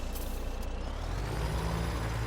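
Air brake on a truck being hooked up in Farming Simulator 17, a steady hiss of released air over a low engine rumble, continuing unbroken throughout.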